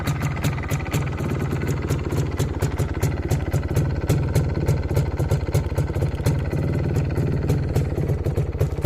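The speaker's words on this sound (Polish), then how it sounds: "Trochę już słychać sprzęgło" An MZ ETZ 251 motorcycle, a UK import with 61,000 km that has towed a trailer, idles with a steady two-stroke engine throb and rapid rhythmic ticking and rattling from the clutch, close and continuous throughout.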